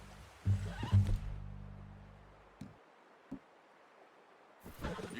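A horse in Red Dead Redemption 2 gives a close, loud whinny at the start, followed by a few soft hoof thuds and light rustling amid quiet outdoor ambience.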